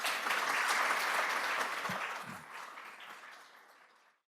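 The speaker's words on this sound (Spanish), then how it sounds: "Le brindamos un fuerte aplauso al doctor Alfaro." Audience applause at a university lecture on Jesuit history, a dense steady burst of clapping that holds strong, then thins and fades out over about four seconds.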